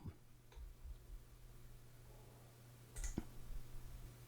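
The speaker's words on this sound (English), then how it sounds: "Double click to open the file." Computer mouse double-clicked to open a Miniconda installer file: two quick, faint clicks near the start, then a sharper click pair about three seconds in, over a steady low hum with no talking.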